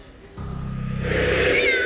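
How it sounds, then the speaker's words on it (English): Caged cats for sale at a market in China, one giving a loud, drawn-out, wavering meow close by, rising into a harsher yowl over a faint background hum. "There are several cages here full of cats, presumably just waiting to be sold."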